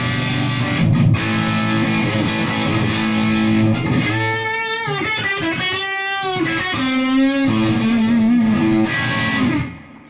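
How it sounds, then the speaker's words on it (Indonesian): Electric guitar played through an AHS 3-in-1 effect pedal on a crunch setting with more gain, giving sustained, distorted chords and single notes, loud and steady throughout before fading at the end. "ini masih crunch gainnya tapi lebih besar"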